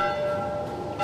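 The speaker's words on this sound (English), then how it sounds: "Head towards the bells." Church bells ring in the video game The Last of Us, a steady sustained tolling with a clear ringing tone, sounding moderately distant and continuous through the short moment.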